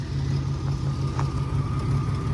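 A 1994 GMC Sonoma 4x4 with a 4.3 engine idles nearby in a steady, even, low-pitched drone with a faint pulsing rhythm and no voices.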